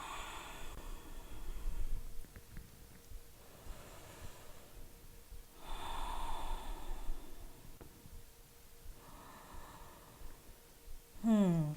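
Slow, deep yoga breaths, held in downward facing dog during a vinyasa flow, rise and fall in long airy inhales and exhales about every four seconds, soft and close.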